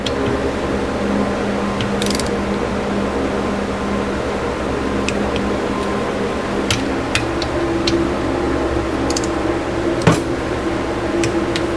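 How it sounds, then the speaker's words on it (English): Torque wrench tightening cylinder head bolts on a vintage Honda CB350 engine during a rebuild: a scattering of sharp, irregular clicks over a steady background hum. "So I'm going to go ahead and torque this down."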